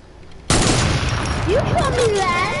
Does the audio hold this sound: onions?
no